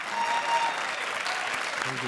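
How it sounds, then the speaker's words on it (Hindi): Loud, sustained applause from a studio audience at a Hindi comedy show, steady dense clapping for about two seconds with a brief voice near the end. "जोरदार तालियां"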